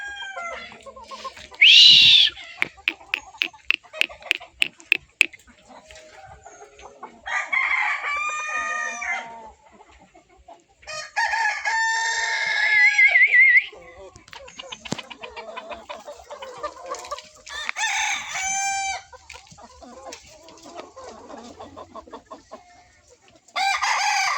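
Roosters raised for market crow repeatedly on a farm, with loud drawn-out cock-a-doodle-doos separated by clucking and sharp rhythmic clicks, calls coming from close by and farther off.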